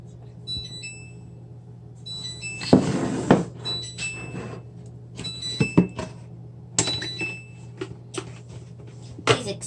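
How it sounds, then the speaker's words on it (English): A home oven beeps after preheating to 350°F for cake baking, with several short, high electronic beeps repeating among kitchen clatter and thumps. "Excuse that noise. That was just my oven telling me that"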